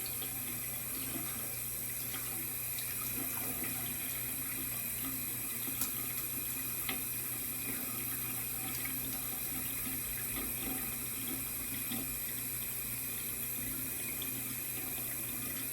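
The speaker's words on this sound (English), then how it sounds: "Make sure that you're filling the brush up with the water" Tap water runs steadily into a sink to soak a shaving brush before a straight razor shave, a continuous close hiss and splash with small splashy variations and no talk.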